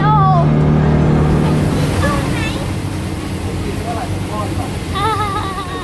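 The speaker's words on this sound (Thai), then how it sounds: "มาลงเรือสปีดโบ๊ทเพื่อที่ไปเกาะ" Speedboat ride on the sea toward an island: a loud, continuous engine roar mixes with rushing water and wind, while excited voices of children and adults call out over it.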